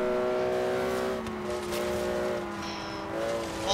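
Porsche engine in Forza Horizon 3 racing, a steady droning hum with shifting tonal pitch as the car holds its speed, fairly loud and constant throughout with small dips.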